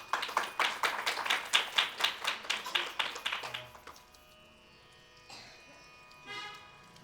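Rhythmic group clapping at a Shri Ram Katha religious gathering during a Mahashivratri festival at an ashram, brisk even beats for about three and a half seconds, then stopping, leaving quiet room sound.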